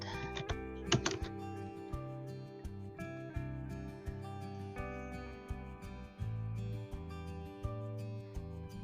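Fingers type the command "show IP route" on a computer keyboard while configuring a network router, producing a quiet series of close, crisp key clicks in an irregular rhythm with a low steady hum underneath.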